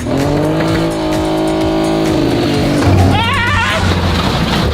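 Ford Ranger trophy truck driving hard, a loud continuous engine roar with shifting pitch and brief tire-squeal-like whines, up close and filling the whole stretch.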